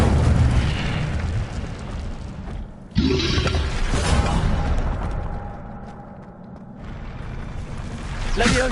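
In Hogwarts Legacy, an Incendio fire spell erupts in booming bursts, with a sharp blast about a third of the way in and a renewed roar near the end, over a low rumbling bed.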